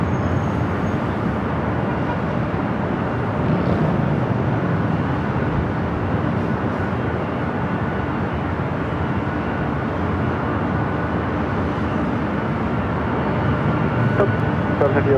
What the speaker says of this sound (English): A United Dreamliner taking off 25 right.